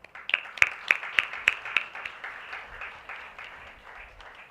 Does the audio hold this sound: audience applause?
yes